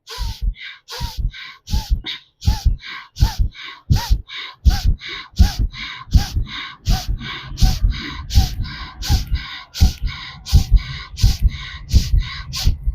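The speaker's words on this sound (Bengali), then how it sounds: "লম্বা করে শ্বাস নেবেন" Forceful, rhythmic breaths in a pranayama lung exercise, taken close to the mic in a fast, even series of loud puffs and gasps with brief gaps between them.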